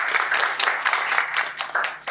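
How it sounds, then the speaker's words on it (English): Audience clapping for a contestant at a Toastmasters speech contest meeting, a small group's brisk, uneven claps heard up close for a couple of seconds. "Please give it a round of applause."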